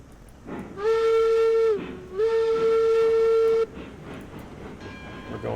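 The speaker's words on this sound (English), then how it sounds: "so we'll blow our whistle" Steam locomotive whistle in the railroad game Railroads Online sounds two long, loud, steady blasts, the first just under a second and the second about a second and a half, with a brief gap between and rumbling ambience underneath.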